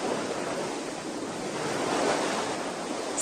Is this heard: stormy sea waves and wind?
yes